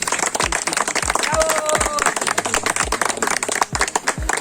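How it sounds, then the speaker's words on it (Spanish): A small group applauding outdoors at a family mausoleum in Venezuela, uneven clapping of a few people nearby with irregular claps and some overlapping speech, continuing for several seconds. "Un aplauso para cada uno de ustedes, por favor."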